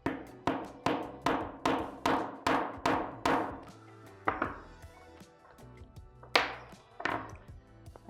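A hammer strikes a grommet setting tool in a quick run of about eight sharp, evenly spaced blows, followed by a few slower, scattered hits.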